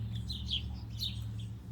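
Small birds chirp in short bursts as they come down to a feeder outdoors, light tweets repeating over a steady low hum of background noise.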